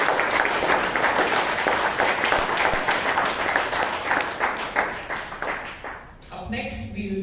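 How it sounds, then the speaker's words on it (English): Audience applause at a Toastmasters club meeting in Bangalore, a dense sustained wash of many hands clapping that tapers off near the end as a voice starts up. "A huge round of applause."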